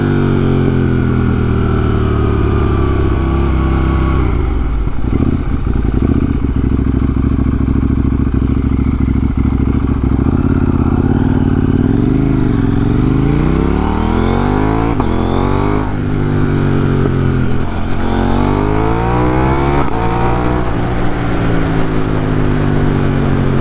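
KTM Duke 890R motorcycle engine under way, loud and continuous with rising and falling rev sweeps as the rider shifts through gears, a close onboard drone of exhaust and wind with no talking.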